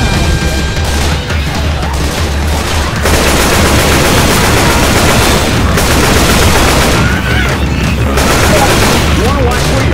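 Dense, loud, nonstop automatic gunfire and booming shots in Left 4 Dead 2 single player mode, rapid rattling bursts filling the whole stretch, with voices shouting over the chaos.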